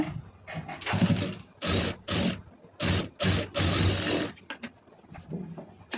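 A sewing machine stitches a blouse neckline in several bursts of whirring, each a second or so long with short pauses between, close and loud.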